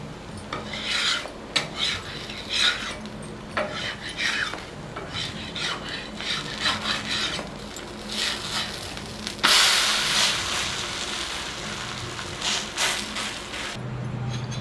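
A spatula scrapes and rasps against a pan as a bottle gourd adai, cooked in sesame oil over medium flame, is loosened and turned, making repeated rough scraping strokes and a brief louder flip with sizzling.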